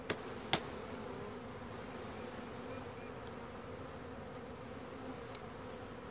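A package of honey bees hums in a low, steady, continuous buzz throughout, with a couple of faint clicks near the start.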